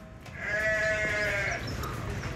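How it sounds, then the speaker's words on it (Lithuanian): A sheep kept on the upper floor of a house in a mountain village lets out one drawn-out bleat at mid distance, rising over a steady murmur of background noise. "Avis antram aukšte gyvena."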